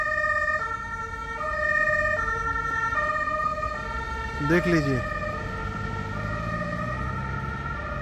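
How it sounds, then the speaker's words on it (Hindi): An ambulance siren wails with a steady rising-and-falling tone on a Luxembourg street, swooping in pitch as it passes close by amid road traffic, while someone talks over it. "देखो एम्बुलेंस आई, सब रास्ते साफ हो गए, एक साइड हो गए और एम्बुलेंस जा रही है।"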